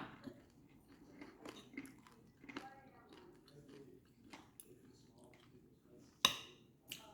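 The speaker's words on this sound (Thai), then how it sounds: "กินหมูมั่งเราฟังเสียงหมูนะ" Crunchy roasted pork belly being bitten and chewed close up, with soft repeated crunching and chewing noises, a sharp loud crunch near the end, and faint voices murmuring in the background.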